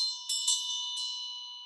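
A single bell rings out with a bright, sustained metallic tone that swells with a couple of struck pulses and hangs steadily, close and clear with no talk over it.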